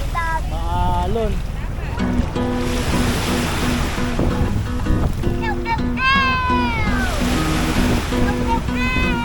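Rough surf at Puka Beach in Boracay, with a loud steady wash of breaking waves and wind, while people talk and exclaim over the water noise.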